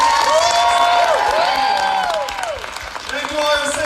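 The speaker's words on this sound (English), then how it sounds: "One last round of applause for the next president." Audience applause fills a town hall with a dense wash of clapping and cheering throughout, loud and close, while music and a voice over the sound system carry on above it.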